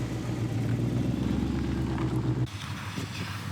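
A McLaren sports car at a McLaren dealership in Leeds, its engine giving a steady low rumble for a couple of seconds before cutting off abruptly into quieter ambient noise.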